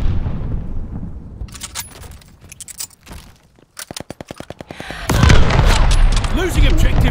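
Mortar fire and gunfire in the Call of Duty: Vanguard video game, with rapid bursts of shots, a brief lull, then heavy booming explosions that roll on loudly near the end.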